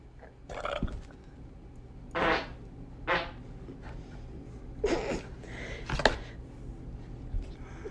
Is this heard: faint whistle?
no